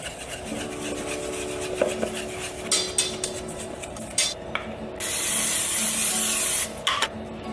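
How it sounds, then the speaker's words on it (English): Breakfast batter of almond flour and Himalayan pink salt being whisked in a bowl, with steady rapid scraping and clinking of a whisk against the bowl under a faint background hum, followed by a short hissing burst of oil spray. "All right, then we're gonna whisk this."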